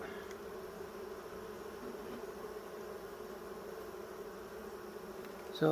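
Honeybees hum steadily at close range during a July hive inspection, a continuous even drone holding without break, the swarm's buzz filling the whole stretch with no voices.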